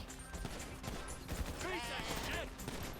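Scattered gunfire rattles in the GTA V zombie mod, with several sharp shots at the start and more bursts later. A voice talks over part of it, and the overall level stays fairly low.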